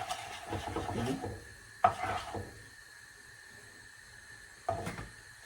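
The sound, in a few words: stirring curry in hot oil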